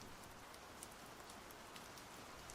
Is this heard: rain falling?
yes